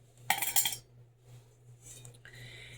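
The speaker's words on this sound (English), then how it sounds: "With this set, I also have a set of cutlery, knife," Metal camping cutlery (a knife, fork and spoon) clinks and rattles as it is handled, with a brief bright burst of clatter followed by softer scattered taps and scrapes close to the microphone.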